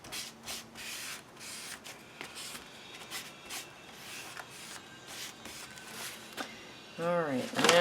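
An old piece of sandpaper rubs by hand in a series of short, uneven scratchy strokes, fairly close, with a voice speaking near the end.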